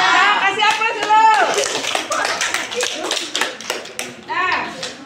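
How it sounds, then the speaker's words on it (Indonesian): Students in a classroom clap in a short burst of applause, a dense patter of hands mixed with children's voices, fading out as talking continues over scattered claps. "kasih aplaus dulu"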